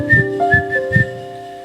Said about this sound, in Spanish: Este tipo está loco, oílo chiflando